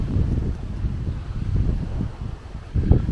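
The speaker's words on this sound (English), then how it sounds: "Morning, it's a bit blowy, but luckily the tent has stood up to it." Strong wind buffeting a tent at a hillside campsite on the South Downs Way, a steady low roar of gusts rumbling against the microphone with no voices.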